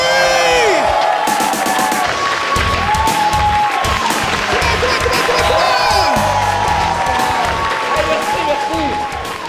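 Loud, dense cheering, whoops and applause from a live comedy-show crowd at a pub and microbrewery, sustained throughout and thinning slightly at the end.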